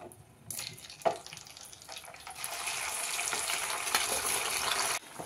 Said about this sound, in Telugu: వేడైంది, చికెన్ వేసేసుకుందాం ఫ్రై చేయడానికి.